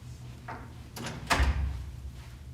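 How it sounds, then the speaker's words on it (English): A door closes in a room being set up for a mock Supreme Court session: a few soft knocks and rattles, then one sharper thud as it shuts, fairly quiet and close, with no talking. "Do you want the door closed?"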